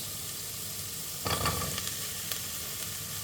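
Chopped celery and carrots hitting a hot pan for tomato and basil soup, a sudden burst of sizzling that settles into a steady hiss, with a short scrape partway through, no talking.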